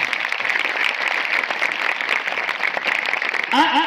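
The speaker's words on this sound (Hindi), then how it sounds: "जोरदार तालियां बजाएं खुदा के कारण" A church congregation breaks into loud, dense applause that carries on steadily, with a voice starting to speak over the clapping near the end.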